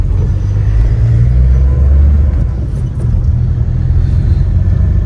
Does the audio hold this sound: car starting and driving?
yes